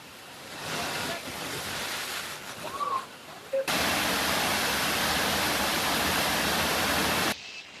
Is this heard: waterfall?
yes